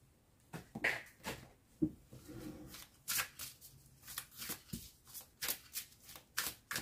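Tarot cards shuffled by hand in quick, papery riffles and soft slaps that come in a loose rhythm, close and fairly quiet, with no voice.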